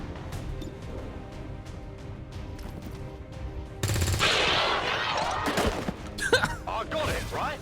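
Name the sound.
gunfire in video game XCOM 2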